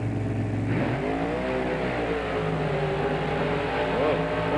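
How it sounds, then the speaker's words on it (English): Chevrolet monster trucks roar side by side at a 1995 Springfield race, their engines droning loudly and steadily with rising revs and shifting pitch, heard from a distance over the crowd. "he stages that Chevrolet against the Shafer Chevrolet"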